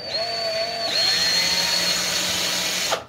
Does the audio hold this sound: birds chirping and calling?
no